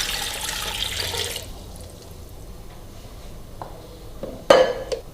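Water pours into a cooking pot for keema with capsicum, a brief hissing splash at the start followed by quieter kitchen sounds and a sharp clank of metal near the end.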